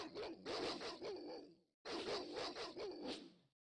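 Dogs in the Baldur's Gate Enhanced Edition video game snarl and bark while attacking, two dense bursts of growling, each about one and a half seconds long, separated by a brief silence.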